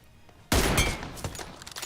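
Gunfire from an M24 sniper rifle in the PUBG (BGMI) video game: a loud, sharp report that starts abruptly and trails off in a long echoing tail, with a few smaller cracks and impacts after it.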